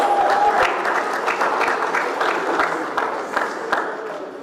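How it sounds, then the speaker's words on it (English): Audience applause at a Nigerian youth conference, a dense sustained wash of many hands clapping with scattered cheers, steady and fairly loud throughout. "Please give a round of applause."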